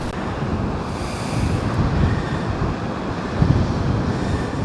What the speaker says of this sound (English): Yeah, the wind is brutal.